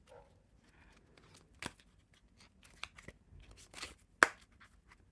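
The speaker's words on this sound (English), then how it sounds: "So you can have no issue shuffling these." Dragonfly playing cards being shuffled by hand, quiet scattered riffling and snapping of card stock in short bursts, with one sharper crisp snap near the end, otherwise near silence.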